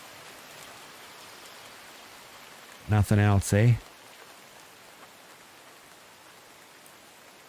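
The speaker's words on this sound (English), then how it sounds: "It's getting dark and rainy out there" Steady, soft rain hisses continuously in the Hold Your Own survival video game at dusk, while someone briefly speaks over it midway through.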